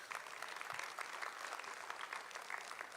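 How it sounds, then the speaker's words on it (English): An audience claps steadily through a whole short stretch at a political election summit, even dense applause that sounds quiet and distant, with no voices over it. "How about a round of applause for him?"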